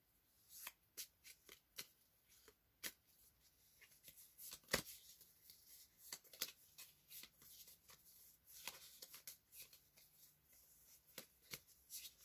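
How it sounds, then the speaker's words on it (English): Pokemon cards shuffled by hand in a quick session of crisp, rapid riffling flicks and soft slaps, close and fairly quiet, with no talking. "give it a quick shuffle"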